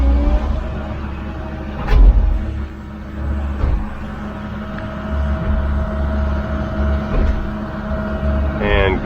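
Engine of a new skid loader being unloaded off a trailer, a close, low rumbling idle with tonal drone and a few thumps and surges, steady throughout.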